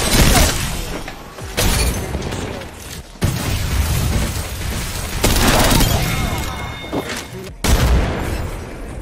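Frag grenade blasts and heavy gunfire in the video game Apex Legends, several loud booming bursts cutting in and out, with spoken game voice lines in the mix.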